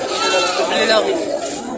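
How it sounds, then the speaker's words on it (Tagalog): Several fullblood Boer goats bleat at once in a noisy, overlapping chorus at a goat market in Padre Garcia, Batangas, close and loud, with people chattering among them. "Ayan, maraming kambing."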